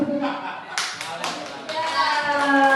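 A group of schoolchildren and their teacher clap in rhythm to a chanted classroom clapping game at an elementary school, sharp irregular claps under children's voices, close and lively.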